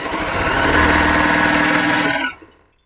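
An Elna Excellent 720 Pro sewing machine runs steadily at close range with a dense, rapid mechanical whir and stitching pulse, then winds down and stops near the end.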